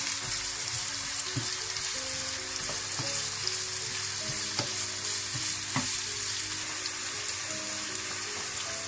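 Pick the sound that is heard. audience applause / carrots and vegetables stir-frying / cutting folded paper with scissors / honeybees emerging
carrots and vegetables stir-frying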